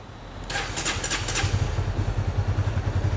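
A Thai-import Honda CBR 150 motorcycle engine starts and settles into a steady, close idle with a soft rhythmic putter, running alone with no talk.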